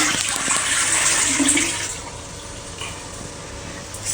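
A toilet flushes in a home bathroom, a loud close rush of water for about two seconds that fades into a steady trickle as the bowl refills.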